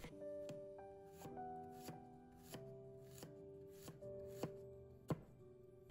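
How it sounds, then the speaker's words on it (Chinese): A knife chops through a peeled fresh ginger root on a cutting board, the blade striking the board in a steady series of crisp knocks over soft background music. "准备一个去皮的生姜，把它切成片。"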